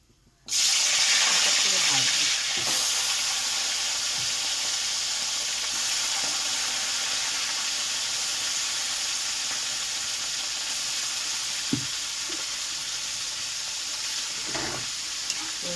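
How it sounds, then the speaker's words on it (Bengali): Fish head frying in hot oil, a loud, steady sizzle that bursts in suddenly after a brief quiet start and holds for the rest of the clip, with a few faint clinks and stirring noises on top. "তেলটা গরম হয়েছে আমি কিন্তু মাছের মাথাটা আমি ভাজবো"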